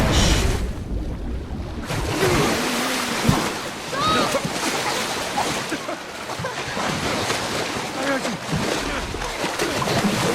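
Water splashing and churning waves in The Last of Us, a loud, dense wash of sea and wind noise throughout, with a sharp splash near the start and a voice briefly heard over it.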